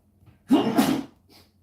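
A single loud, breathy sneeze erupts close to the microphone during a live stream, followed by a faint trailing breath, with no talking.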